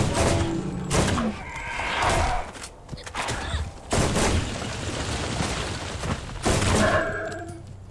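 Borderlands gunfire, several loud separate bursts of shots booming and cracking close by, spaced a second or two apart with no talk.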